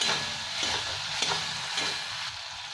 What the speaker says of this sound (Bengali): জিরে, ধনে আর লঙ্কার গুঁড়ো, হলুদ, একটু নুন দিয়ে জলটা গুলে দিয়ে দিলাম। একটু ভেজে নেব